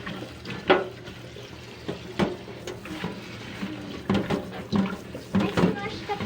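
French beans are rinsed by hand under a running tap, with splashing and knocking bursts over a steady water hiss while people talk nearby.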